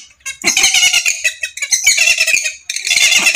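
Purple swamphens (kalim birds) kept at a commercial bird farm give loud, harsh squawking calls in several nasal bursts, close by and separated by brief gaps.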